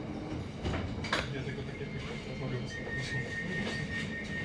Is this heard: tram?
yes